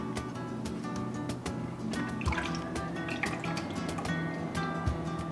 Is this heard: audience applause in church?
no